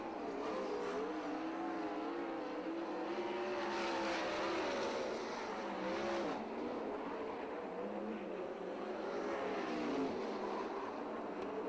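Sprint cars race around the Perris Auto Speedway oval, several engines droning and rising together in a steady, loud roar that swells and fades as the pack passes, with no voices over it.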